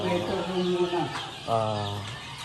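Chickens in an outdoor brooder on a farm cluck in short bursts, close by and mixed with people talking.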